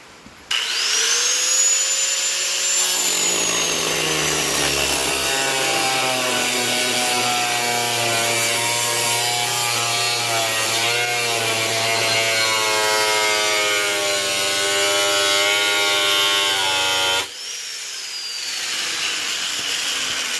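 A cutoff disc grinds through the passenger door panel of a wrecked 2008 Mazda 6, a loud, continuous high-pitched whine with shifting pitch as the blade bites into metal, running for most of the stretch before stopping abruptly.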